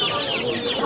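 Chickens clucking at a busy poultry market, a steady close chorus of overlapping clucks with no talk.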